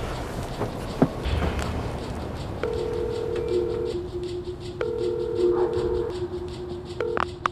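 Several short electronic beeps of phone keys being pressed, with a steady tone between presses, over faint room noise.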